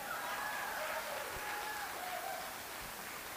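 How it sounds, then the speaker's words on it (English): An audience at an art prize closing gala and awards night applauds, a faint, steady, rain-like wash of many hands clapping heard from a distance. "One more round of applause for Janet."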